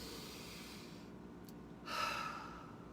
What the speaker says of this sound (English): Breathe in through the nose,